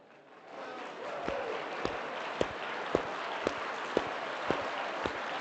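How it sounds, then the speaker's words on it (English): Audience at a talk bursts into applause that swells quickly and stays steady, with a few sharp, regularly spaced thumps cutting through the even clapping. "stand up for a round of applause"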